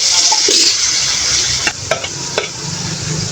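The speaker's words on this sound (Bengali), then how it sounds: "এভাবে তেলে ভেজে নেবেন মশলার সাথে" Boiled banana blossom fries in oil with spices, a loud close hiss and sizzle with several sharp scrapes and clicks from stirring near the end, no voices.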